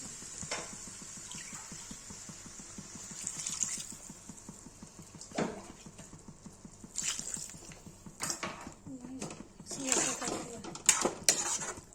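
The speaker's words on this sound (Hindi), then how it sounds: "सौंफ डाल देंगे और चला देंगे" Fennel seeds tossed into a hot pan for an aubergine and potato (baingan aloo) sabzi give a steady soft sizzle, with scraping stirs and clinks rising in bursts, while a person talks over it.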